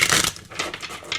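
Tarot cards shuffled at a reading table, giving a brief burst of papery riffling and slapping followed by a few softer flicks, close and alone.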